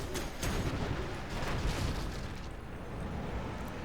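A Dragon Tank being destroyed in C&C Generals Zero Hour, a dense, sustained rumble of explosions and bursts in a busy battle, loud and continuous with no clear single blast.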